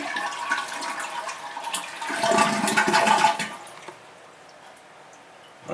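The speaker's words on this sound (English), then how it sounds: "give it one more flush" A toilet flushes as its tank is emptied during a repair, water rushing loudly into the bowl for a few seconds, then fading to a quiet trickle as the tank drains.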